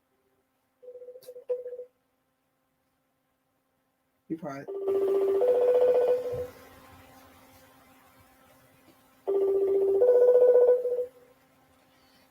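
A phone call is placed, with a brief dial tone followed by two long ringback tones separated by silence. A voice speaks briefly between rings.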